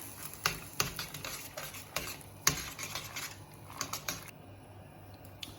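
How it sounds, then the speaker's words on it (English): Kalguksu noodles stirred in boiling broth, a string of sharp clinking and scraping taps from a utensil against the pot, uneven in rhythm and fairly close, with a low simmering hiss beneath. "Then you add noodle and quickly stir"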